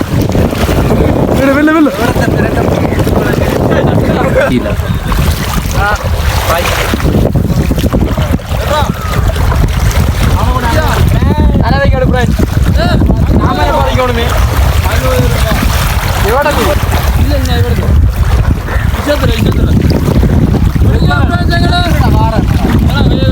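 Strong wind buffets the microphone while waves slap and churn around a small boat on a lake at Irakkamam, with people shouting and talking over the roar throughout.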